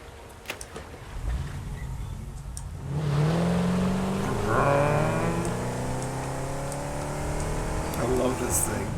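A vehicle's engine in the video game Satisfactory revs up and sustains a loud whirring drone with climbing pitch after a quieter start, while a person talks over it.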